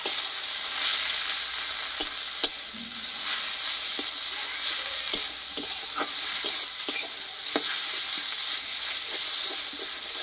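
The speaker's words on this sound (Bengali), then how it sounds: "পাতা বাটাটা দিয়ে দিব, দিয়ে এইটা আমি ভালোভাবে একসঙ্গে ভেজে নেব" Pumpkin leaf paste fries in a pan while being stirred, a continuous near sizzle broken by regular scraping and clacking strokes of the spoon over about ten seconds, no talking.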